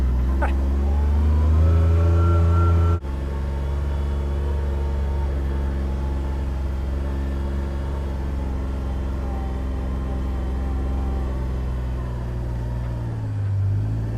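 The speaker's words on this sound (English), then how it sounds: "Gets a little steep up here. Get that 4-wheel drive going." A four-wheel-drive vehicle's engine drones loudly and steadily while climbing a steep farm hill, with a sudden drop in level early on and the pitch easing near the end.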